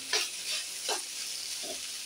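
Sliced okra fries in a pan over medium heat: a faint, soft sizzle broken by three brief spatula scrapes, close but quiet.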